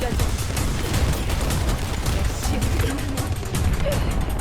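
Gunfire in The First Descendant shooter game during a boss fight, dense continuous rapid shots and impact clatter, loud and unbroken throughout.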